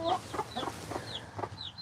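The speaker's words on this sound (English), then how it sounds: "See the chickens?" Chickens cluck in short bursts of several soft calls at a farm, faint and a little distant.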